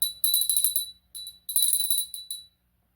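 A bell rung during a Halloween tarot reading to clear energy about the Amityville house, bright ringing strikes in two bursts with short pauses, each ring sustained and shimmering before stopping into silence.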